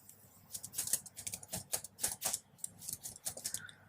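Quick bursts of clicky keystrokes on a computer keyboard as a name is typed in Android Studio, uneven rhythm with short pauses, close and fairly quiet, no talking.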